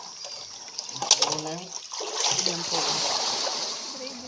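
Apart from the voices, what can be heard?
water splashing while scooping sand out of a spring well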